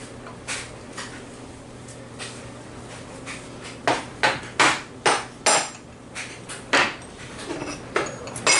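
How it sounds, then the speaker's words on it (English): A plastic hammer knocks on a 6.2L Detroit diesel starter during reassembly, a run of about ten sharp, close blows in quick succession after quieter light taps over a low hum. "Let's get the plastic hammer going."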